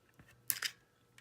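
A paper punch cuts through a scrap piece of paper, two quick sharp clicks close together, faint and close by in a quiet room.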